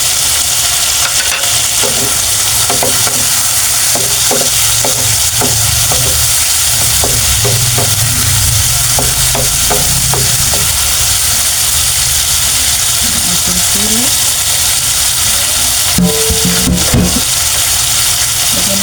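Sponge gourd and shrimp sauté in a pan with a loud, steady sizzle, while a utensil scrapes and stirs in repeated knocks and clatters throughout.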